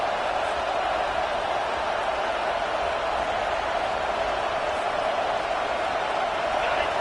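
A packed stadium crowd at a college football game roars in a steady, dense wash of cheering and noise that holds constant throughout, with a commentator's voice under it.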